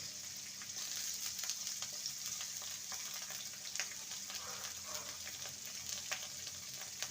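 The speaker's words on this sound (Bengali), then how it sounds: "গাজরকে প্রথমে ভেজে নেব কারণ গাজর ভাজতে সময় লাগে" Long thin carrot strips fry in hot oil, a soft, even sizzling hiss with faint crackles and occasional spoon scrapes, close but quiet and unbroken by speech.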